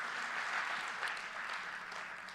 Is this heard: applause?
yes